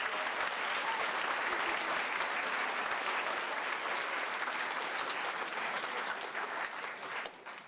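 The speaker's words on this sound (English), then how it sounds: "Can we get another round of applause for that amazing jazz ensemble?" Concert audience at a school band performance gives steady, enthusiastic applause for a jazz ensemble, a dense continuous clapping that fades slightly at the end.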